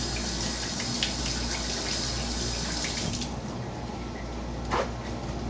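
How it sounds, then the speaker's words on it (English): Tap water runs steadily over hands at a kitchen sink during vegetable meal prep, a constant broadband hiss that eases slightly partway through, with a brief splash near the end. "Let me rinse my hands here."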